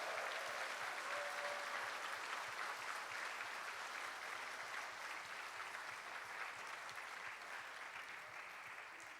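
A church congregation applauds during a Sunday service, a faint, even, sustained wash of clapping with no break throughout.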